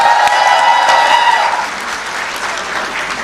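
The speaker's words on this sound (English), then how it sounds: "A round of applause for you all." An audience applauds at a college convocation ceremony in a hotel hall, loud and dense clapping that fades to a lighter patter toward the end.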